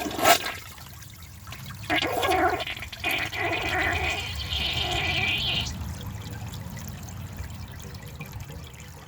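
A Gerber Maxwell wall-mounted toilet flushing with its tank below the full water level: a sharp click, then rushing and gurgling water for several seconds, fading into a quiet trickle as the tank refills.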